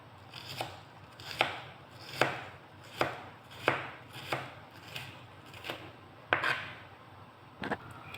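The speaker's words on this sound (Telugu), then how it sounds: "ఎలాగైతే సన్నగా కట్ చేసుకోవాలి, ఎందుకంటే సమోసాలకి సన్నగా ఉండాలి ఆనియన్స్." Onions finely chopped for chicken samosa, a close, regular series of about ten crisp knife strikes on a board at a steady rhythm, no talking.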